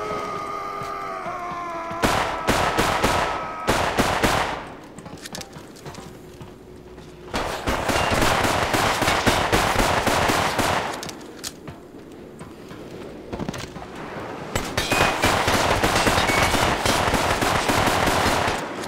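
Rapid bursts of automatic gunfire in the online shooter game Crimecraft, loud dense rattling volleys in several long stretches separated by short quieter pauses.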